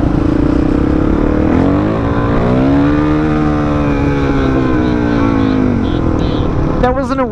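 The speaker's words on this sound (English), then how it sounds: "DRZ is a very powerful motorcycle" A Suzuki DRZ motorcycle engine runs loudly while riding on a Halloween outing, its pitch sweeping up and down as it revs, with wind noise and voices mixed in.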